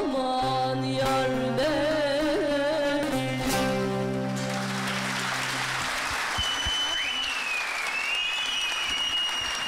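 At a student concert at a music school, sustained instrumental and vocal tones die away and the audience breaks into steady, full applause that lasts several seconds.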